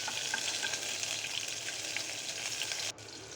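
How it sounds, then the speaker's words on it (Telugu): Ginger garlic paste fries with bay leaf in a pan for vegetable biryani, a dense, even sizzling hiss held close and steady before dropping quieter near the end. "బిర్యానీ ఆకు బాగా ఫ్రై అయ్యాక అల్లం వెల్లుల్లి పేస్ట్ వేసుకొని బాగా పచ్చివాసన పోయేంత వరకు వేయించుకోవాలండి"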